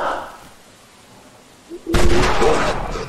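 After a quiet stretch, a single loud silver-bullet gunshot rings out in the video game The Wolf Among Us, a sharp blast followed by a rumbling tail with no talking over it.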